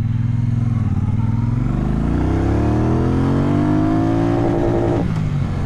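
A Triumph Speedmaster motorcycle pulls hard through the gears, its engine note climbing steadily and loudly from close by over several seconds, with a brief shift-like dip near the end.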